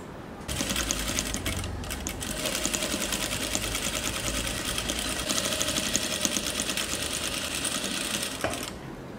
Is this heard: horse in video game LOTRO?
no